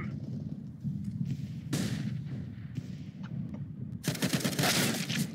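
Gunfire in a video game comes as several sharp bursts. A couple of single cracks are followed by a dense rattling volley near the end, over a low rumbling background.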